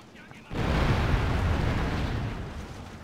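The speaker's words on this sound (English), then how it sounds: "They're not supposed to sound like they're shooting guns." In the battle game Shogun 2, an archer volley that sounds like gunfire breaks in suddenly as a loud roaring burst, then holds as a dense rumbling barrage that slowly fades.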